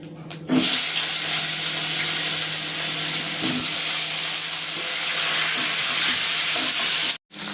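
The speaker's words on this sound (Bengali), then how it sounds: "এবার আলুগুলো আমি এই তেলের মধ্যে দিয়ে ভালো করে ভেজে নেব" A steady, loud sizzle of potatoes frying in hot oil with cumin fills the scene, with a couple of soft stirring scrapes and a brief break near the end.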